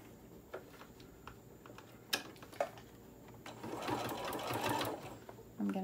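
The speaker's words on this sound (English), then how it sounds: "We're going to sew a seam all the way down each side, back stitching at the beginning and end" A sewing machine stitches a seam through thick layers of fabric, its needle ticking in a steady mechanical run that speeds up and grows louder partway through, with brief clicks and handling noises.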